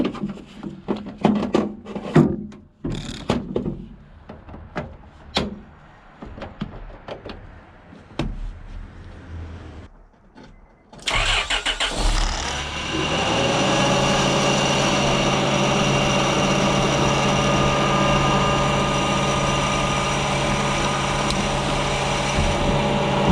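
A 2004 Honda Pilot engine cranks briefly and catches after an alternator replacement, settling into a steady, loud idle that continues, preceded by clanks and tool noises from the work.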